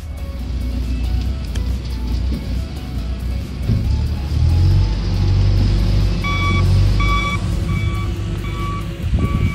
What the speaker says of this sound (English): that truck beeping